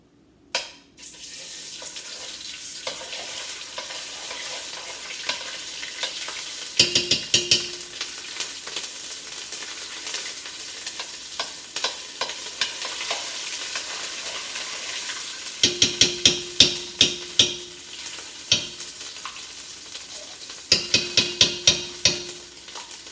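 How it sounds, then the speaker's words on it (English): Tomato paste cooks in a pot for Nigerian jollof rice with a soft, low sizzle, broken by bursts of rapid metallic stirring scrapes and clinks that come in several separate runs. "When you put it in, you have to constantly stir it so the tomato paste won't burn."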